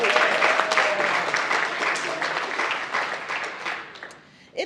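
Audience applause at a graduation ceremony for a scholars cohort, steady and fairly loud throughout, fading out near the end before a brief final burst of claps.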